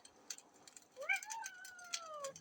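A cat gives a single drawn-out meow, rising and then slowly falling, quiet and close against a hushed background, with a few soft ticking sounds before and during the call.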